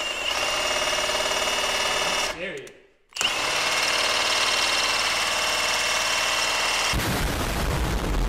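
An impact wrench removes a part from an Acura RSX Type-S power steering rack with loud, close, sustained buzzing bursts broken by a brief pause, and a different harsher rattle near the end.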